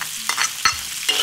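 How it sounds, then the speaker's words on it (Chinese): Pickled chilies are stir-fried in hot oil for Sichuan cooking. A brief close sizzle is broken by a few sharp spatula scrapes and clacks against the wok. "然后是泡海椒下锅"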